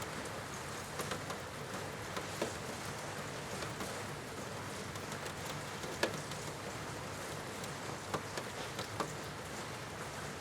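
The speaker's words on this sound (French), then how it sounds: "par ces trombes d'eau qui coulent et qui vous font sentir parfaitement bien" Heavy rain pours down in a steady, dense hiss, with scattered sharper drop ticks that stand out now and then, heard alone without any voice.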